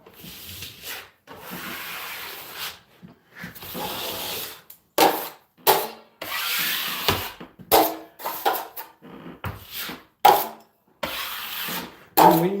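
Drywall knife spreading and scraping joint compound over screw heads, a run of short wet rubbing strokes and scrapes with uneven rhythm, close and moderately loud.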